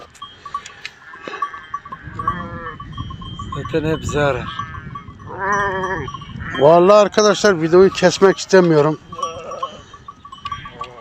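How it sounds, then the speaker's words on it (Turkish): A flock of sheep in a village pen bleats repeatedly, several voices overlapping and growing louder toward the middle, with bell tinkles behind while someone talks close by. "Koyun çok güzel maşallah."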